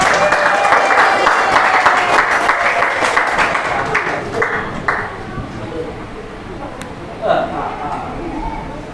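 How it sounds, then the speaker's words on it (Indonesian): Classroom applause for student presenters: a dense wash of clapping hands fills the room, loud at first and gradually thinning out, with voices chattering in the background. "Aplaus dulu biar semangat."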